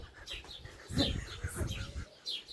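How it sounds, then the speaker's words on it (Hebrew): Birds chirp and tweet in short, repeated calls over a quiet rural backdrop, with a few brief sharp notes scattered through the clip and no speech. "כל הזמן ציפורים באוזניים. זה לא מפסיק לצפצף."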